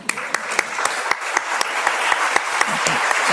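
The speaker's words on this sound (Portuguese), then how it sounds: "creo que podemos por lo menos aplaudir," An audience at a talk on violence against women claps loudly and steadily, with dense applause and a few crisp individual claps cutting through.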